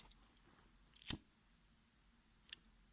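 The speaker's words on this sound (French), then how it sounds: "Donc, je coupe vraiment à ras les fils qui ont tissé." Scissors snip through fine micro-macramé threads in one crisp close cut, followed by a fainter second snip in an otherwise quiet room.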